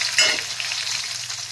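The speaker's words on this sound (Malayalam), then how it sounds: "നമുക്കിതിന് കടുക് പൊട്ടിക്കാം" Short burst of hot oil crackling and popping as mustard seeds, shallots and dried red chillies hit the pan, then a softer continuous sizzle, close and without any voices.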